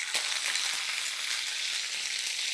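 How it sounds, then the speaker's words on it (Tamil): Curry leaves crackle and sizzle in hot oil, a dense, steady frying hiss with small pops, close and fairly loud, with no voices over it. "அந்த எண்ணெய் சூடானதுக்கப்புறம் நம்ம என்ன செய்ய போகிறோன்னா, கொஞ்சம் கருவேப்பிலை"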